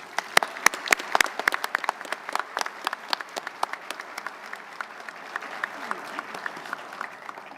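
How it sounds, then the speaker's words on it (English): A luncheon audience at a naval event gives scattered, moderately loud clapping, with individual claps clearly distinct. The applause thins out gradually over several seconds. "Please give them a round of applause."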